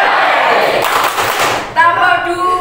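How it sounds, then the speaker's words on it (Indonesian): An audience of parents and teachers claps together in a group clapping exercise, a loud dense burst of hands that cuts off abruptly, followed by a brief tonal ring. "Tepuk tangan"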